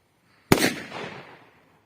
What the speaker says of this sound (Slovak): Ďalej petarda Super petarda.